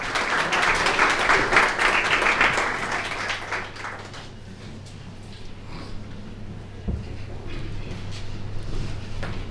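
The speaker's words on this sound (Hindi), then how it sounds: "एक बार जोरदार तालियां भार्गव साहब के लिए।" Applause from an audience at a book release ceremony for a judgment-writing book, loud clapping over the first few seconds and then fading into a low hum and room murmur.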